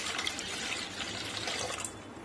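Roughly one to one and a half litres of water pours into a deep kadhai, a steady splashing rush that fills the pot for about two seconds with no voices over it.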